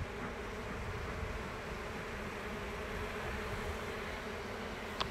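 Honeybee swarm gathered on a small tree trunk, heard as a faint, even, continuous drone with no clear breaks, set back at a distance.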